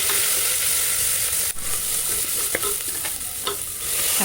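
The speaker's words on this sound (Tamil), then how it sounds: "இஞ்சி கொண்டையும் போட்டு நல்லா கிண்டோம்" Ginger frying in a pan gives a loud, close, steady sizzle, with a few scraping stir strokes over the hiss and no voices.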